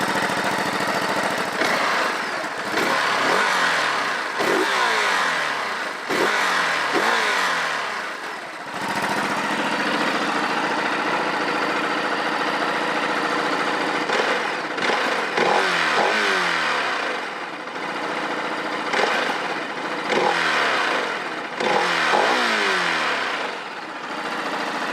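A Ducati Desert X motorcycle engine revs up repeatedly, close and loud, climbing in pitch and then settling back to a steady idle, with no talking.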